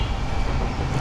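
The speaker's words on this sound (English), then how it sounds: "probably there is a train." A heavy low rumble of a train passing nearby, loud and steady throughout the short moment.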